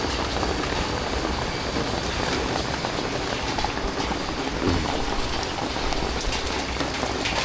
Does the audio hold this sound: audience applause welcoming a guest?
no